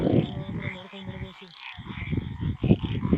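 Frogs croaking at night on a mountainside during a camping trip, a dense pulsing chorus of croaks that drops out briefly midway and then resumes loudly, close and continuous.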